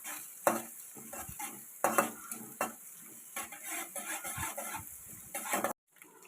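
Egg and onions frying in a pan are stirred with a utensil, soft sizzling beneath repeated scraping and clinking strokes against the metal, fairly close and quiet.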